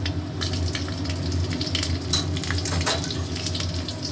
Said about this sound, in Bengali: ফোড়ন দিচ্ছি কালো জিরে, কাঁচা লঙ্কা।